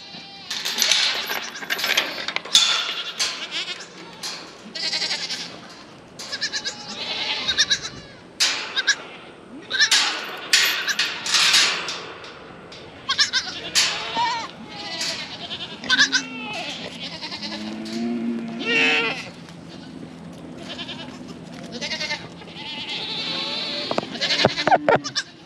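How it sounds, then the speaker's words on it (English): Goats on a farm bleat again and again, loud close calls overlapping in irregular bursts with short pauses between them. "Hey, goats!"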